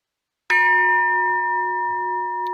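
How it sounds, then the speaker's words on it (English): A studio-size gong made from a gutted fire extinguisher is struck once, giving a loud metallic clang that rings on with steady, sustained resonant tones and decays only slightly over two seconds. "He takes these fire extinguishers, guts them out, works his magic, and he turned it into a studio-size gong that we can use."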